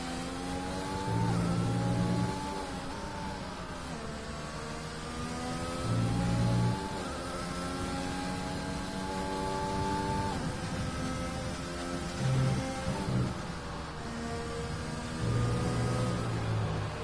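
An onboard racing car engine in a sim racing game on the Austria circuit, heard continuously and close for the whole lap: it revs up through the gears in repeated climbing whines, then drops back as it brakes and downshifts, with no talk.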